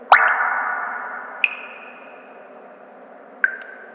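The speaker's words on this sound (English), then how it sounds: "Listen carefully to the different tones of water droplets here." The MIUI 10 water-droplet notification tone sounds three times, each a bright plink that rings out and fades, clear and close with nothing else heard.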